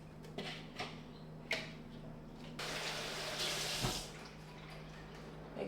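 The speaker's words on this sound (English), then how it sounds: "Making sure hands are nice and clean." Hands are rinsed under a running kitchen tap while preparing to make kombucha: a few soft clicks and knocks, then a steady, close stream of water splashing into a sink.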